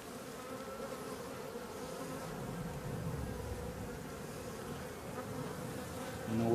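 Honeybees in an open hive with frames of brood, drone-laying colony, make a steady dense buzzing drone throughout, close and unbroken with no talk.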